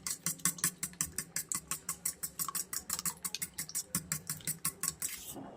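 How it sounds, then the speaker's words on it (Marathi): Eggs whisked briskly in a bowl with a utensil, rapid regular clinking strokes repeating steadily and close up, with no talking over them. "आपण फेटून घेऊयात"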